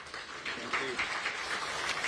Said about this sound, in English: a big round of applause there for the principal economist in the Ministry of Finance